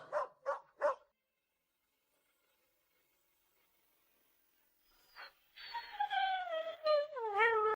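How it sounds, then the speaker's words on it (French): A small yellow stray dog gives three quick barks, falls silent, then lets out drawn-out whining, whimpering cries close by, with no talking. "D'où vient ce petit chien jaune? Es-tu un chien errant?"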